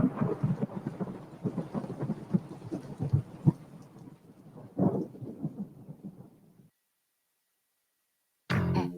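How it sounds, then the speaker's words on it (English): A dramatic thunder sound effect in an advertisement for the Batsu Thunder, rumbling loudly in repeated rolling cracks for several seconds before fading into silence, then another burst at the end. "after you get struck by lightning, there's thunder"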